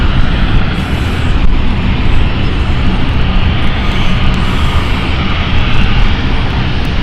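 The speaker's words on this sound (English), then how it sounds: "taxiing away here with the Airbus A220" An Airbus A220 taxiing at London City Airport gives a steady, fairly loud engine rumble and whine that holds evenly throughout with no talking.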